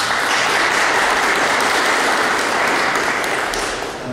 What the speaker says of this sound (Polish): Również ogromne brawa.